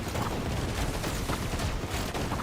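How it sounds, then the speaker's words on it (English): Explosions and gunfire in a video game form a dense, loud, continuous barrage of overlapping blasts and shots with no pauses. "Explosions."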